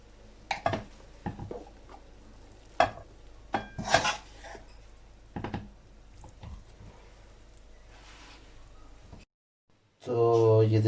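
A spoon scrapes and clinks against a pan while potato, pea and carrot curry is dished out: a run of sharp, irregular metallic knocks close by, then a short silence and a louder clatter at the end.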